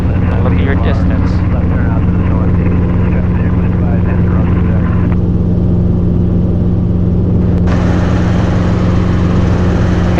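Robinson R22 helicopter in flight, heard from inside the cabin as a loud, steady rotor and engine drone with strong low hum throughout, with brief radio chatter over it early on.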